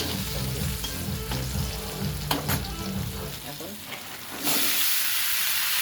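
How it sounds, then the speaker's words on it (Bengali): Cut taro sizzles loudly in a frying pan, with a dense continuous hiss and occasional stirring scrapes, growing brighter and steamier toward the end. "এটা ধুয়ে নিয়েছি কেটে একটা ভালো করে ভেজে নেবো"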